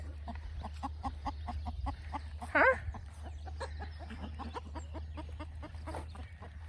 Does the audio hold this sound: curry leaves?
no